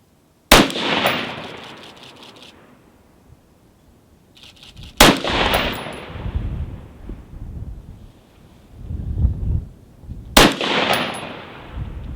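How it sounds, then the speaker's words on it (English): Three loud rifle shots fired at an outdoor range through a scope, spaced several seconds apart, each a sharp close blast followed by a long rolling echo. "We're gonna go ahead and shoot on 4 power now."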